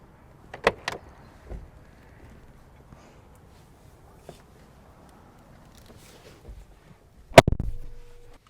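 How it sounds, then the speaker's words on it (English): The bonnet of a Mercedes-Benz G63 AMG is shut with one sharp, loud slam near the end. A few faint clicks and taps come before it in otherwise quiet surroundings. "Let me close the bonnet and we will take it for a drive."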